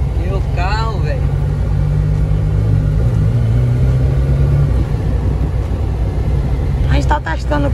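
A car engine rumbles steadily from inside the cabin during a test drive, a low continuous drone with a slight rise partway through, while people talk over it.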